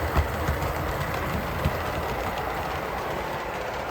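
An On30 O-scale model train set runs steadily along its track at a model train show, giving a continuous rolling rumble with faint clicking, alone without talk.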